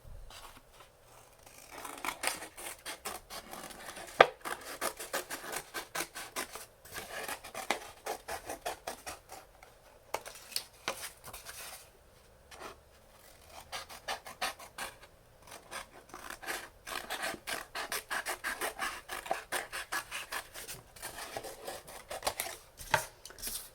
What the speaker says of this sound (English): And now for Varahadeva, we're going to cut on the outside